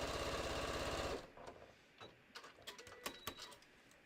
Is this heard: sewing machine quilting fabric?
yes